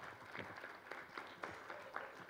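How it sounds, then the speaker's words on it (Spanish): Faint applause from a conference audience at an international forum on obesity policy in Mexico, with scattered claps sounding distant and steady throughout. "te vamos a brindar un fuerte aplauso desde México"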